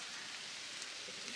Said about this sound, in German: Wie man hört, regnet es nur ein bisschen.